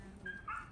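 A dog at a shelter in Bosnia gives a quick, faint high-pitched yip, one brief bark heard at a distance over low background noise.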